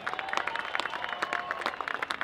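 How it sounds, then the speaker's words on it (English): Applause from attendees at the Henry Repeating Arms 1,000-man shoot, a record-setting event presented by the National Rifle Association, comes as a steady patter of many clapping hands, moderately loud and continuous. "One last round of applause for today's successful record-setting event"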